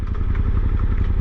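A Suzuki V-Strom 800DE motorcycle engine drones loud and close while being ridden, a steady rumbling pulse lasting about a second with no voices over it.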